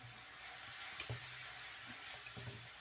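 Masala roasting in a pan on low heat while making daal fry, a steady soft sizzle with a few light stirring scrapes, close and even.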